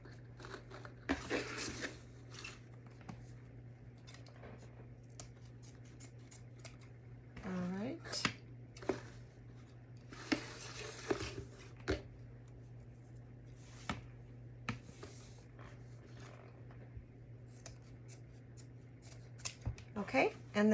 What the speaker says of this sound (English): Make sure that when you are cutting your ribbon that you use really good scissors.